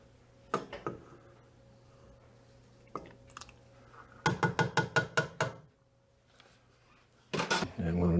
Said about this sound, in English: And we're going to gently stir all this together.